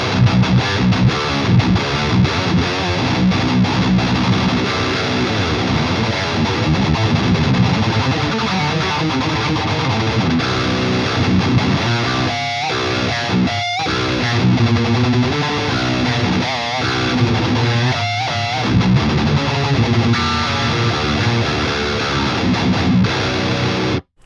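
Heavily distorted electric guitar played through the JST Toneforge Jeff Loomis amp plugin on its Super Big preset, dense chugging riffs with brief palm-muted stops and choppy gaps, loud and continuous alone for the whole stretch.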